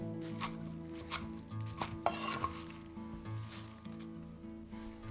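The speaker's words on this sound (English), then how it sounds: "Roughly cut the mint and the Thai basil leaves." A knife roughly cutting mint and Thai basil leaves on a board, a series of irregular close chopping taps with brief pauses, over a faint background hum.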